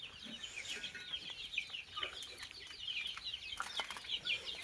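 Desi chickens on a country-poultry farm cluck and chatter in a busy, irregular flurry of soft calls, faint and spread out, with no talk.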